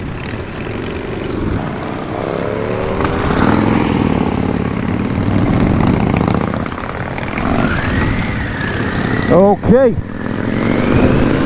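Harley-Davidson motorcycles ride along Highland roads, a loud continuous engine drone with rising and falling revs and passing whooshes, as someone speaks briefly over the noise.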